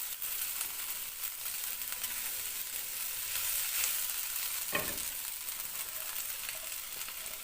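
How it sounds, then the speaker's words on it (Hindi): Vegetables and shredded cabbage stir-frying in a pan for restaurant-style chicken chow mein, a steady close sizzle running throughout with a brief stirring scrape midway, no voices. "सब्जियाँ यहाँ अच्छे से फ्राई हो रही हैं"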